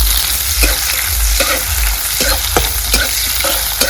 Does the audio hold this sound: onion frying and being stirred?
yes